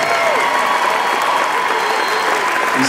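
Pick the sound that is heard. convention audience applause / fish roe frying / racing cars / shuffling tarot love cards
convention audience applause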